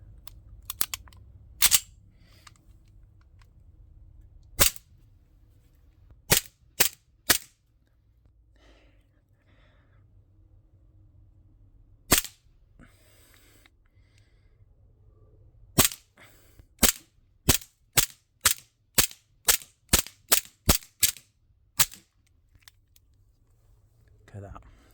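A 1911-style CO2 pistol shoots 4.5mm BBs in sharp, close cracks, first a few spaced shots, then a quick run of about a dozen in a row, heard over a quiet room.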